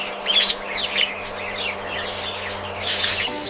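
A bright green parrot in a sandy desert giving a string of harsh chirping calls, moderately close, with a few short bursts and a low steady hum underneath.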